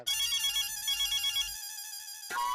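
Phone ringtone playing, a bright steady electronic tone that shifts pitch partway through and then cuts to a new note near the end, loud and close with no voices.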